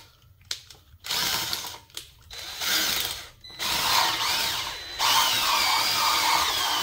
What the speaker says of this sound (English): Sometimes you may have to do it a couple of times with the drill bit.